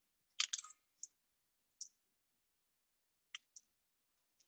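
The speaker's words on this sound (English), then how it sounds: "I'm gonna peel our eggs." Sharp, sparse crackles and clicks of shells being cracked and peeled off hard-boiled eggs, a quick cluster at first, then isolated snaps separated by near silence.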